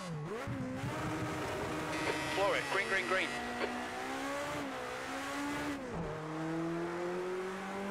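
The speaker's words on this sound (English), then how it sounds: "Hitting the rev limiter hard here." A BMW 2002 Stanceworks Edition racing in Project Cars 2, its engine buzzing at a high steady pitch against the rev limiter, dropping and climbing between gear changes, with brief tyre squeal midway.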